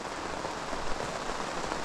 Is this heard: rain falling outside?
yes